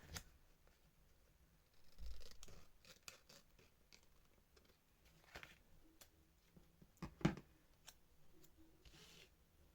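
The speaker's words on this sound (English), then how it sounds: "I'm just going to cut this one off" Scissors snip a sticker off a sheet in quiet, sparse cuts and small paper rustles, with one sharper snip standing out near the end.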